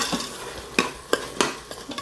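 A spoon scrapes and clinks through paneer bhurji with tomato and crushed kasuri methi in an Instant Pot, giving several quick sharp strokes over a faint sizzle.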